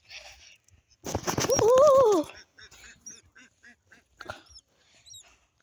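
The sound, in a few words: ducks in a village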